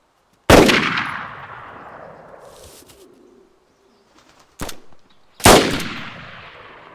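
Two loud SKS rifle shots ring out in DayZ, each with a long echoing tail, plus a sharper crack in between; a faint bird-like coo sits in the quiet gap.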